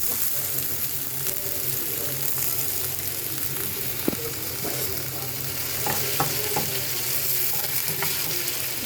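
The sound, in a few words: potatoes with garlic frying in a pan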